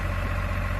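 A tractor engine running steadily on bare farmland, a continuous low rumbling drone with a constant throb and no pauses, close and loud throughout.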